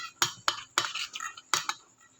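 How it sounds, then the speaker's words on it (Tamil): A spoon mixing hot ghee into sugar and roasted gram powder in a bowl for maladu, a handful of quick close scraping clinks in an uneven rhythm; no speech. "இது வந்து நல்லா கரண்டியை வச்சு மிக்ஸ் பண்ணி விடணும்"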